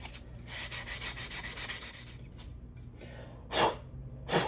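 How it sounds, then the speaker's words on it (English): Metal is being smoothed by hand with 180-grit sandpaper, making a quick rhythmic rasp of short back-and-forth strokes for about two seconds. A pause follows, then two louder breathy swipes. "Now we're going to move into the smoothing grit, which is going to be the 180"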